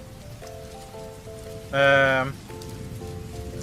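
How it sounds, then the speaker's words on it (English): Rain falls steadily in the video game Game Builder Tycoon, a continuous patter under a soft melodic tone, with a brief spoken word cutting in near the middle. "And it's raining."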